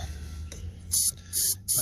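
Three short bursts of aerosol spray hissing out of a can into an old car's engine, each about a quarter second, close and fairly loud, after low background noise.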